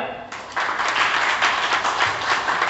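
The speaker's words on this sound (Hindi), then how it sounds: "आपके लिए जोरदार तालियां" A seminar audience breaks into applause after a short pause, and the rapid, even clapping carries on to the end while the room stays lively.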